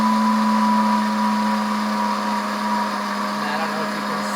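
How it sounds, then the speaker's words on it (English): A Pampered Chef grinder whirs through coffee beans in a loud, close, steady high-pitched motor whine that dips only slightly in strength toward the end. "I'm actually just going to use the pulse button"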